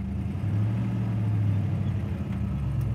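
A 1958 Plymouth Fury's engine running as the car pulls away, a deep, steady, close rumble that holds evenly throughout without revving up or fading.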